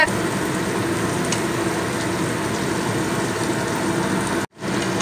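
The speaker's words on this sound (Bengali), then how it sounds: "ক্যাপসিকামটা এই মশলার সঙ্গে দিয়ে আমি বেশি সময় কষাবো না, 1 মিনিট কষিয়ে নেব" Capsicum frying in a cooked spice paste for a homemade paneer dish, giving a steady, even sizzle that carries on without a break until a brief cut just before the end.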